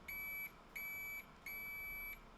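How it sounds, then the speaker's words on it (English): A multimeter in continuity mode, used while testing homemade electromagnets, gives three clear, steady high-pitched beeps, each about half a second to a second long, separated by short gaps, close and alone with no talk. "I always beep it just to make sure everything's connected properly on the multimeter"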